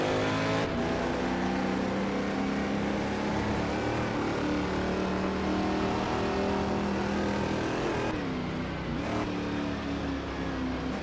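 A Chaparral 2D race car engine in a racing video game roars continuously at high revs with shifting pitch, loud and close throughout, with a brief dip as it changes gear and no talking.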